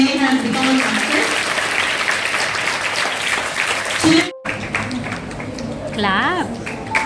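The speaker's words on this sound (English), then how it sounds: "Clap." Audience clapping at a school Teachers Day celebration fills the room in a steady, sustained round of applause, with voices mixed in, before it cuts off and a speaker's voice follows.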